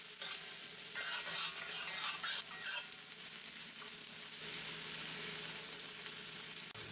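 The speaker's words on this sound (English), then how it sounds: "Then we add the other vegetables and fry them all until they're soft and tender." Mixed vegetables fry in a pan for a ramen noodle stir fry, giving a continuous dense sizzle with light stirring scrapes throughout, steady and close.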